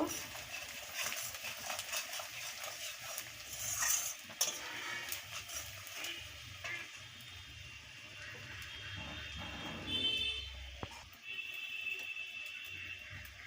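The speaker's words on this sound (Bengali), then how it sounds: "দিয়ে দেবো কাশ্মীরের লঙ্কা গুঁড়ো এবার একটু নেড়ে নেব" A spoon stirring fish roe masala in a pan after turmeric and Kashmiri chilli powder go in, heard as soft scraping and occasional metallic clinks at low volume.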